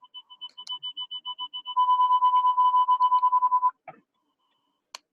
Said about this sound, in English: does anybody else hear the beeping?